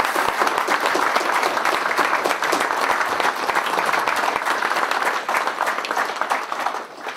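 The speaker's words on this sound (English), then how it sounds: "So let's give them a round of applause." Loud, sustained applause from an evening lecture audience rolls on steadily with crisp individual claps, then tapers off near the end.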